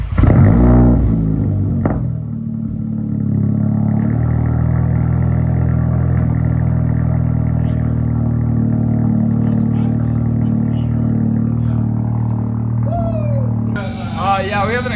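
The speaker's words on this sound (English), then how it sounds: "we had an exhaust leak, but it was just because my dumbass did not tighten the V-band clamp" A straight-piped Audi A3 engine with an exhaust leak at a loose V-band clamp idles loudly on a cold start with a rough, steady rumble and ticking puffs, with voices talking over it and a brief rev near the end.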